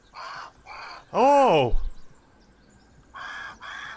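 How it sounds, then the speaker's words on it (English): A crow in the survival video game Grounded gives a loud, harsh drawn-out caw amid shorter clipped calls before and after, with a brief exclamation from a player. "So the crow also lands on top of this thing."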